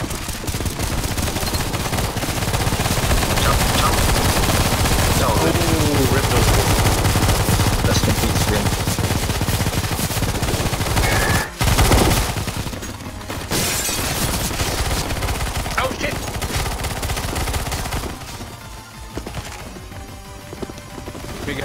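Dense, sustained gunfire from many players in a Counter-Strike: Global Offensive zombie escape mod match, loud rapid shots rattling almost without pause, with a brief gap midway and slightly thinner firing near the end.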